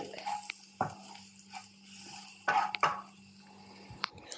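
Spoon scraping and knocking in a pan while chicken masala spice mix with turmeric, chili, coriander and Kashmiri chili powder is stirred, a few quiet clinks and scrapes spaced apart over a steady low hum.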